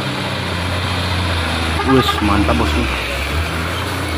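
A Volvo FM 260 Ti truck engine labours up a steep hill, a loud, steady low rumble throughout while someone talks over it.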